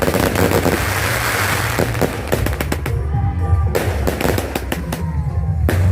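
A large 600-shot fireworks cake going off in a dense, continuous barrage of crackling bangs and pops, loud and sustained with brief thinner gaps; no talking.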